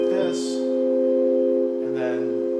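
A Prophet 6 synthesizer sustains a steady, bright harmonic tone throughout, with a brief breathy noise burst near the start and a lower note entering near the end.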